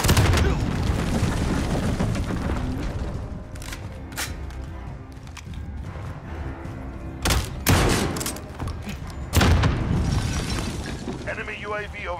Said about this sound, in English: missile incoming